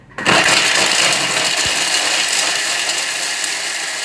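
A Thermomix food processor whirs loudly at top speed, a steady dense mechanical roar that starts abruptly and keeps going without a break.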